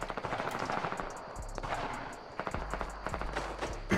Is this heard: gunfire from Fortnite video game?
yes